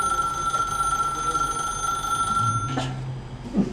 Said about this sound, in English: A phone rings again.